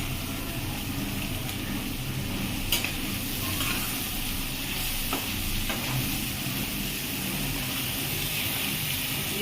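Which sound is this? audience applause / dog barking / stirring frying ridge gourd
stirring frying ridge gourd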